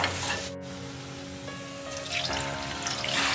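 Water poured into a pot of mutton paya (goat leg) curry, a steady close splashing pour with light sizzling beneath it, no talking.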